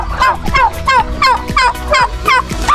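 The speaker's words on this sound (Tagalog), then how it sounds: "pabo" A turkey gobbles repeatedly in a farmyard, about six loud, close rattling calls in a steady rhythm, with no voices over them.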